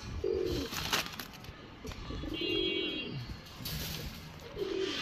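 A male flyer pigeon gives several soft, close coos at intervals, each a brief low warble, with quiet background noise between them.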